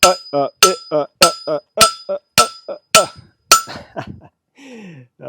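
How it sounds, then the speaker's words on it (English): Hammer blows on hot steel and anvil during hand forging, a steady rhythm of sharp metallic strikes with ringing overtones, near and loud, about seven evenly paced hits followed by softer scraping and clinks. "You notice a lot of times guys are hitting the anvil in between like that."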